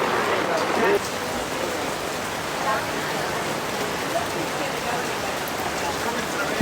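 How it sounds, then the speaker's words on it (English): Steady, dense rain pours over an alfresco dining area under umbrellas during a thunderstorm in Stresa, Italy, a continuous hiss of drops on surfaces from start to finish, with faint voices in the background. "Still raining."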